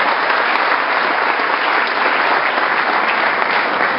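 An audience at a high school graduation ceremony claps steadily for the school staff, a loud, dense, unbroken wash of applause with no voices standing out.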